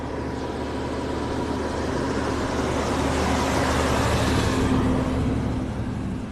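A loud truck rumbles past on a coastal beach road, a continuous broad roar that swells and fades over several seconds with no talking.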